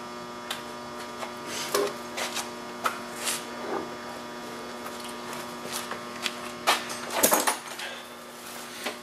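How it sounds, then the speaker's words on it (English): A vacuum brake bleeder works on the brakes of an Audi 90 Quattro during a brake flex line replacement. It gives a steady electric hum and buzz, with intermittent hissing bursts and clicks up close, and no speech. "This is a vacuum brake bleeder."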